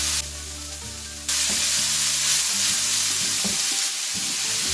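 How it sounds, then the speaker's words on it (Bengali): Egg fried rice with carrot is stirred and fried in a hot pan, a loud steady sizzle with scraping stirring strokes heard up close, with no talking. "ভালো করে নেড়ে চেড়ে এটাকে কুক করে নিচ্ছি।"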